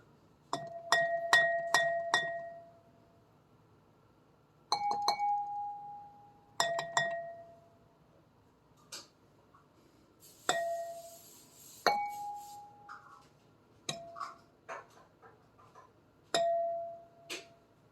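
Glass struck in several bursts of quick taps, each ringing with a bell-like tone that decays, followed by scattered lighter clinks.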